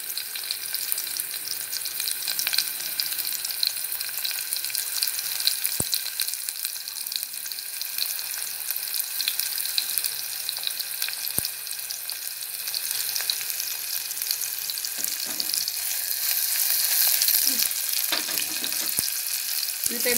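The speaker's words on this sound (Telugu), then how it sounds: "ఉల్లిపాయ ముక్కలు వేసేసుకుంటున్నానండి" Onion pieces frying in a pan while cooking with broad beans and tomato, a continuous bright sizzle at close range with occasional stirring clicks and scrapes, no voices.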